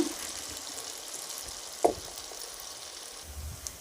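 Hotel-style bonda fritters, the second batch, frying in oil: a soft, continuous sizzle heard at low level, with one short clink of a stirring utensil partway through.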